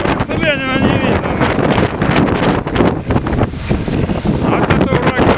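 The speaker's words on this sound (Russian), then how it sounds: "Ох, вот это ураган. Все сносит." Strong gusting wind of a dust storm ahead of rain, buffeting the microphone with loud continuous roaring rumble throughout, while someone speaks excitedly over it.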